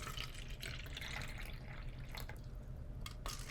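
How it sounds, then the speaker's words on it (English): Water is poured to fill four cups, a faint continuous trickle and splash with low background rumble and no talking. "we are going to fill each of our 4 cups with water."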